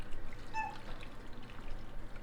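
Liquid poured over steamed chicken, a soft, faint trickle lasting a couple of seconds in a quiet kitchen, with no talking.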